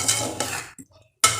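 Mushroom pieces being lightly sautéed in a pan for biryani, with close metal utensil scraping and clinking against the pan in bursts separated by a brief quiet gap.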